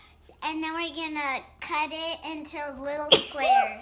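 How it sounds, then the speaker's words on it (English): A child gives one sharp, sudden sneeze in a home kitchen while baking brownies, breaking in after an adult's steady talking, with more voices resuming right after. "Are you sneezing for real?"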